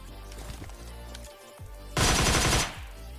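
Bursts of gunfire ring out in the mobile shooter PUBG Mobile Lite, first lighter rapid shots, then a loud sustained automatic volley lasting under a second, heard close and with no talking.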